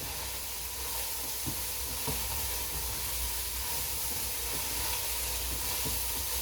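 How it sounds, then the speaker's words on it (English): Brussels sprouts sautéing in oil with chopped onions and a little salt, a steady broad hiss and sizzle running throughout with a few faint clicks of stirring. "give it a stir and saute them in oil"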